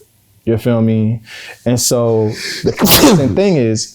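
A single loud, close sneeze bursts out in the middle of a man's speech, his talking continuing on both sides of it.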